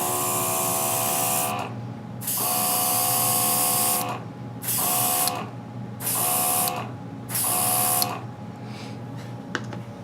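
An airbrush sprays paint in bursts: a steady high hiss that starts and stops four or five times, each burst lasting one to two seconds, close and fairly loud with a faint compressor hum between them.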